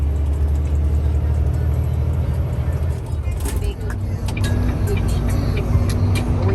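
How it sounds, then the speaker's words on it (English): A big truck rumbles along a road with a steady low engine drone and road noise from inside the cab, while people talk over it. "Driving this big ass truck."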